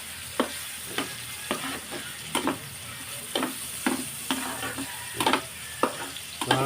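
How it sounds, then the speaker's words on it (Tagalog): Onions sauté in a hot pan for pork with shrimp paste, a soft sizzle broken by regular scraping stirs of a utensil, close up and with no talking. "Gisa mo na yung sibuyas"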